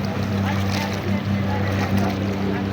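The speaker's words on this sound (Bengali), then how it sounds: "এটা হলো তেলের জাহাজ, ছোট জাহাজ তেলের।" A small oil tanker ship at sea near the Maldives, heard as a constant low engine drone and rumble mixed with wind and water wash, loud and steady throughout.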